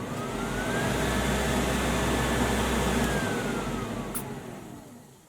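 A Vintage Air air-conditioning system in a Dodge Challenger switches on and runs as a steady, loud blower whoosh with a low hum, building up, holding, then tapering off over several seconds without talk.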